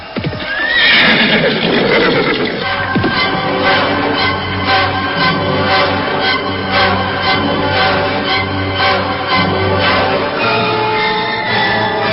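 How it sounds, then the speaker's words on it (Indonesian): A horse approaches in a radio drama scene, its hoofbeats clip-clopping in a steady loud rhythm after an opening whinny, alone with no talk. "mendengar derap kaki kuda mendekat"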